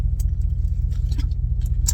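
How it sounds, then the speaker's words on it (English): A parked truck idles in the rain, its engine and exhaust making a steady low rhythmic throb, close and continuous, with faint light ticks on top. "You might hear the exhaust or whatever."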